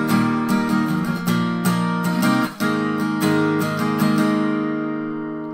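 An acoustic guitar strums the first part of a song's verse, driving power-chord strums in a steady rhythm with a brief break midway, ending on a ringing chord that fades out.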